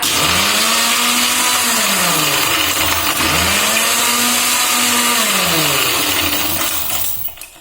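Blender grinding a chocolate milkshake of milk and ice cubes, a loud continuous motor whine that rises and falls in pitch in two long swells before winding down at the end, with no talk over it.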